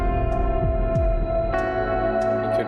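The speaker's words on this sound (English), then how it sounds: "that is a clean channel guitar with a bit of chorus, probably a bit of vibrato on it" Clean-channel electric guitar with chorus and vibrato, sustained shimmering chords with sliding low notes and a few bright plucked accents, playing alone with a wide, echoing, effect-heavy tone.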